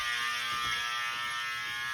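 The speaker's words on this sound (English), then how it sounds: "Oh my god, the fire alarm's going off!" A school fire alarm gives a loud, harsh, continuous buzzing tone that holds steady for the whole two seconds, with no voices.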